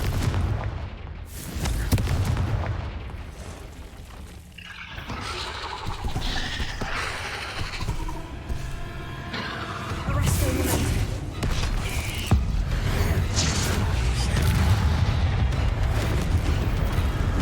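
A Confringo fire spell bursts in the Hogwarts Legacy video game, heavy booming explosions and rumbling blasts amid game effects and shifting combat sounds.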